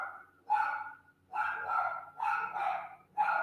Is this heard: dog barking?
yes